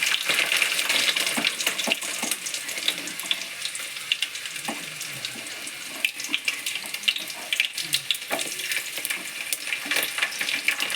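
Smashed garlic frying in hot oil with mustard seeds for a Telangana-style poha tempering, giving a steady close sizzle with frequent crackles and pops running for the whole stretch, no voices.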